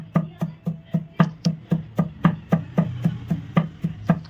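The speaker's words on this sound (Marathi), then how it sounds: "मी आता त्याला खलबत्त्यामध्ये कुटणार आहे." Karale (niger seed) chutney being pounded in a mortar and pestle: steady, rhythmic thuds at about three per second, close and fairly loud, with no voices over them.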